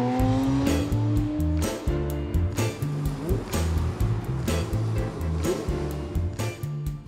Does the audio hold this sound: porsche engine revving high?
yes